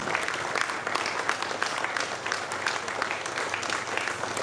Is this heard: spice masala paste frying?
no